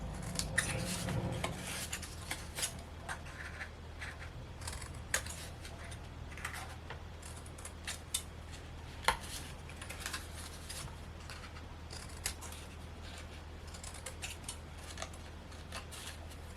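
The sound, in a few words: bevel-cutting paper for an Easter craft box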